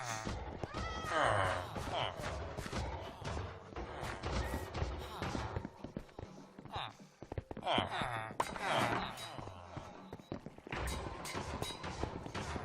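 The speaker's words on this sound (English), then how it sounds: "We're getting a lot of cats." Many Minecraft cats meowing at an iron farm with villagers, several overlapping meows mixed with game thumps and someone talking over them, moderately loud and busy throughout.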